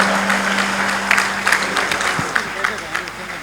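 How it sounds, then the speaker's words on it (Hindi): Applause from an audience greeting the chief guest, a cabinet minister, at a cultural event in Uttar Pradesh: steady, dense clapping across the whole stretch, with a low hum beneath. "ताली बजाइए जोरदार"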